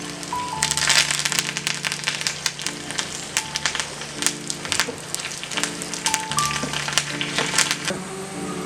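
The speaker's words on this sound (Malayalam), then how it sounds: "ഇനി ഒരു 2 കറിവേപ്പിലയും കൂടെ ചേർത്ത് നന്നായിട്ട് താളിച്ച് ആ ചൂടോടുകൂടി തന്നെ കറിയിലേക്ക് നമുക്ക് ഒഴിച്ച് കൊടുക്കാം" Hot tempering of mustard seeds, chilli, garlic and curry leaves poured into a Kerala pazham pulissery banana curry, giving a loud, close crackling sizzle with sharp pops and spits throughout, no talking.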